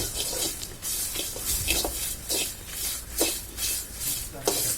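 Red chillies dry-roasting in a pan as they are stirred and pressed down, producing rhythmic scraping and rubbing strokes about once a second, close and moderately loud, with no talking.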